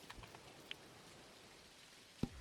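Rain falls steadily in the farming video game Dinkum, a soft, faint, even hiss with a few light drop-like ticks and one low thump near the end; no one speaks.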